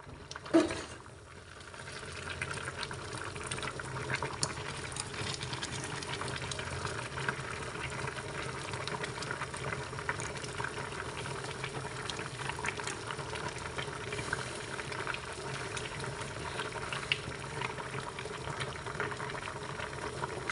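Food simmering in a covered pot on the stove, a steady close bubbling and gentle rolling boil that runs evenly throughout after a brief clatter at the start.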